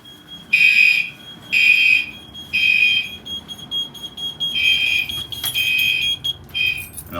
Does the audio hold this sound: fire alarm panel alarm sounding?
yes